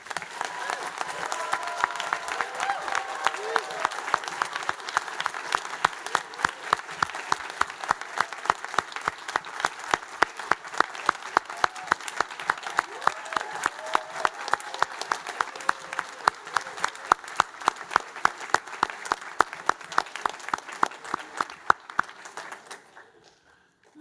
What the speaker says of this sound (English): I'd like to invite everyone to give a special round of applause to all our graduates here and online.